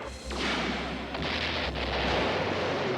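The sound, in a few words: cartoon particle beam cannon firing, explosions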